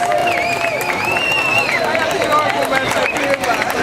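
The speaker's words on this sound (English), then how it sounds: "Let's give grade 1 a round of applause." A crowd at a school word parade claps and chatters for first graders, a dense wash of applause mixed with babble and children's voices throughout, fairly loud and steady.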